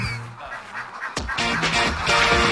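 Domestic ducks kept for egg laying quack repeatedly amid a busy farmyard clamour, close and fairly loud, with overlapping calls throughout.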